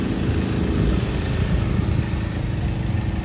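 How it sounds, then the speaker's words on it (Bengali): A motorbike engine runs close by near Rondia Dam at Panagarh, a loud, steady, buzzing drone that stays constant throughout with no pauses. "আর একটা বাইক"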